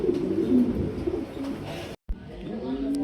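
A female pigeon on a pigeon farm coos in low, rolling, repeated calls close by, broken by a brief silent gap before the cooing resumes.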